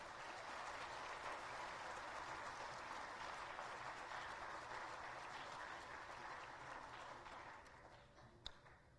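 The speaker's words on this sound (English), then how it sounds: "my students will welcome with clapping to my respected guest" Students at a university MoU signing ceremony clap to welcome guests. The soft, even applause sounds somewhat distant and tapers off toward the end, with one sharp tap near the close.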